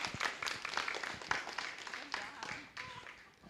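Scattered applause rises from a crowd at a county fair 4-H and FFA poultry show, uneven claps fading out toward the end, with faint voices mixed in.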